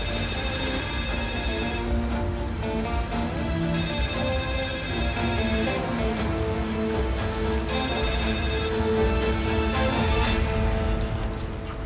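A mobile phone rings with a repeating melodic ringtone in bursts a few seconds apart. The tone stays steady and clear above a low background, and no one talks.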